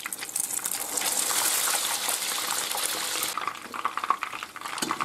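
Slices of bread soaked in wine and coated in batter fry in hot oil for homemade torrijas, giving a steady bubbling sizzle that later breaks into uneven crackles, with no talk.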